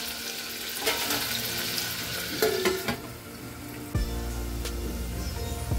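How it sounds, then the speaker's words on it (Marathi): Onion frying in oil in a home kitchen pan, a steady close sizzle with occasional stirring scrapes and a brief clink, continuous throughout with no talk. "मध्यम आकाराचा घेतलाय आणि तो आता छानपैकी ना गोल्डन होईपर्यंत पूर्णपणे आपल्याला फ्राय करून घ्यायचा आहे"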